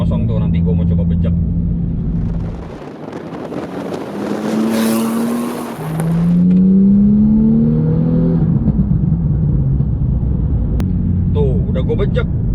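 A Porsche fitted with air suspension accelerates hard on an open bypass road, its engine rising in a loud, rumbling rev with climbing tones, close up, while someone talks over it before and after.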